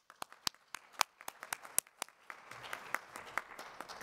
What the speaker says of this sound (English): Clapping is good.